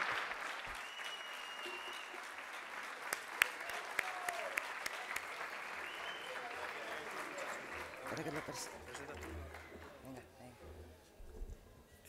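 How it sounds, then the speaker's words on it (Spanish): Audience applause for a bugle and drum band at a procession band gathering in Cabeza del Buey, steady crowd clapping that fills the whole stretch with a few sharper claps and voices mixed in, tapering slightly near the end. "Fuerte aplauso, los conocéis, ¿no?"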